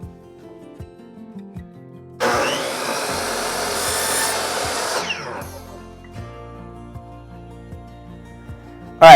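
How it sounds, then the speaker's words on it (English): Miter saw cutting through wooden trim for a puzzle board border: a loud whining, rasping cut lasting about three seconds, then the blade spinning down, with soft knocks before and a sharp clunk at the end. "We're going to use a miter saw to do that."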